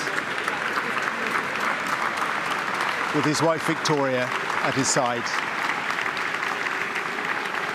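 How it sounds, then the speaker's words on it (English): Members of Keir Starmer's team on the steps of Number 10 Downing Street applaud outdoors, a steady sustained clapping crowd heard beneath a news presenter's voice, with a few brief vocal calls rising over it. "Applauded by members of his team who'd come from inside Number 10 and Number 11 onto the steps to witness that moment for themselves."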